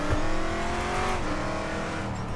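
Race car engine in RaceRoom Racing Experience holds a steady loud drone with gliding harmonic pitch during a spin-out, continuous throughout with no talk.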